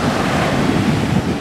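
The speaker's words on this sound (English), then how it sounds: "These are like surfer waves." Ocean surf waves along the California coast, a dense, continuous roar of breaking water mixed with heavy wind buffeting the microphone, loud and close with no voices.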